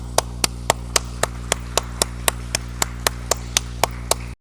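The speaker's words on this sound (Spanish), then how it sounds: "Nuevamente aplausos para usted" One steady, evenly paced clap repeating about sixteen times at an engineering conference presentation, crisp and close, with no voices and a constant low hum underneath.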